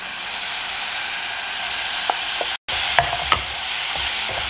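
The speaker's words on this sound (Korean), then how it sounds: "양파를 투명하게 볶아줍니다." Onions stir-fried with browned ground meat in a pan for an Italian meat sauce, giving a steady loud sizzle throughout with occasional scraping taps of the spatula.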